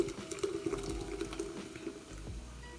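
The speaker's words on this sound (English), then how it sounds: "So I'm just going to go ahead and pour all of this" Canned drinks are poured into a container for a Chapman cocktail, making a steady, faint liquid splashing and trickling that runs for a few seconds.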